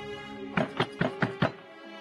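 Five distinct knocks on a closed wooden door in a steady rhythm, close and fairly loud, with a low background hum and no talk over them.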